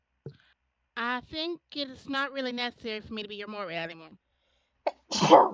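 One loud sneeze bursts out at the end, following a woman's steady speech.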